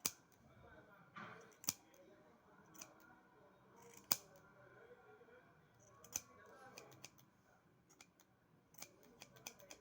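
Scissors snipping yarn while trimming a tassel for a Wayuu bag, several sharp isolated clicks and snips spread irregularly across the span, close but quiet, with soft handling noise.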